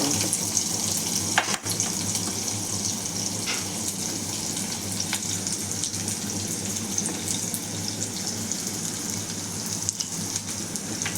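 Two chopped onions sautéing in hot oil with mustard seeds and cumin, a continuous even sizzle close by, with a few faint clinks of stirring.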